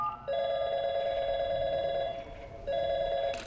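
Telephone ringing in the video game Portal 2, an electronic ring of two bursts, a long one and then a shorter one after a brief gap, clear and alone without talk.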